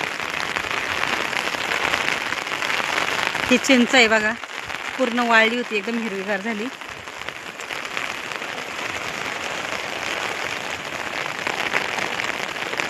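Heavy rain patters steadily on surfaces beside a flooded stream, a continuous close hiss throughout, with someone speaking briefly over it partway through.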